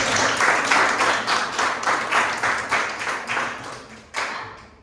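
Children in a classroom clap together in a steady, rhythmic beat, loud and close, with a few stray claps and a final louder burst near the end.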